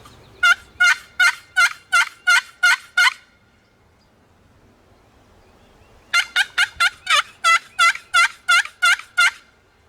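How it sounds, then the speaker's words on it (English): A wild turkey tom gobbles during a hunt: two loud, close bursts of rapid, rattling gobbles separated by a few seconds of near silence. "He just randomly gobbled, so I know there's a tom around"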